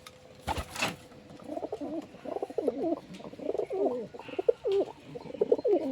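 Pigeon coos in a loft, a steady run of low throaty rolling calls following a brief burst of wing flapping near the start, fairly close and moderately loud with no talking.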